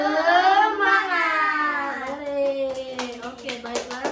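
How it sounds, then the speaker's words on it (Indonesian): A classroom of pupils performs a rhythmic spirit clapping chant, with sung, chanted voices at first and then a few sharp hand claps near the end, all close and fairly loud. "kita akan tepuk semangat dulu. Tepuk semangat."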